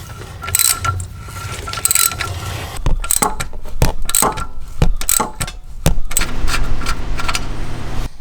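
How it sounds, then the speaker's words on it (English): A thread tap being turned by hand into a freshly drilled, greased hole in metal for an NPT fitting, giving irregular metallic clicks, ratcheting snaps and scraping close up, with short pauses between turns and no talking. "So we got the hole drilled, and now it is time to tap it."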